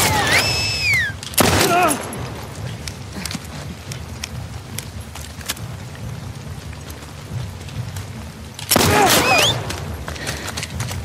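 Bursts of gunfire from The Last of Us Part II, with sharp shot clusters near the start and again near the end over a steady background of game ambience.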